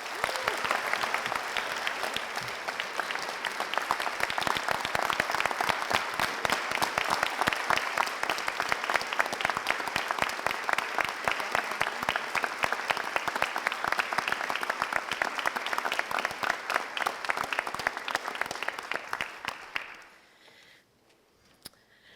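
Sustained applause from an audience at the dedication of a career and technical center, dense steady clapping for about twenty seconds before stopping abruptly into near silence.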